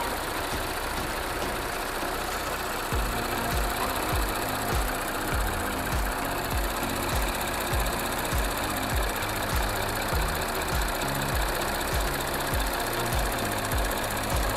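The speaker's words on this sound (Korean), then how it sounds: "엔진 소리 일정하네요" Engine of an Audi A7 (4K) 55 TFSI quattro idling steadily under the open hood, a close, even low-pitched rumble with a regular pulsing rhythm and no talking.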